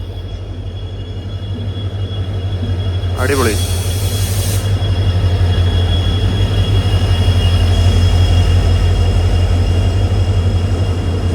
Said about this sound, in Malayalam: നമ്മുടെ ട്രെയിൻ വരികയാണ്.